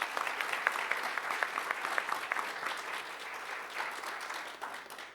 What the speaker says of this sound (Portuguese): esse grande amigo, deputado Nery, a quem eu peço uma grande salva de palmas